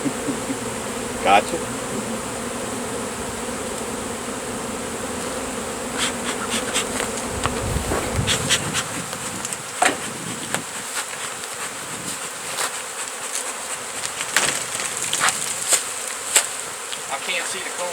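A swarm of bees buzzes at a massive beehive being removed, a dense close drone running the whole time, overlaid with knocks and scraping clicks and a brief spoken word.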